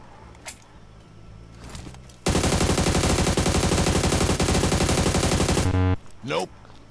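A loud, rapid burst of automatic gunfire from a Groza rifle in PUBG Mobile rattles continuously for several seconds, preceded and followed by a few quieter sounds and a brief voice.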